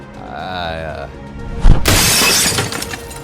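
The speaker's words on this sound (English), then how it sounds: "With a running leap, Zach crashes through the 3rd-story window and drops down to the ground" A glass window on the third story of a building shatters in an audio drama, a loud, sudden crash that trails into scattering fragments over a tense music and effects bed, following a short spoken line.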